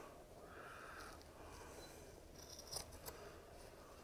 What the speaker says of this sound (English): I'll just come in with my scissors and cut it off.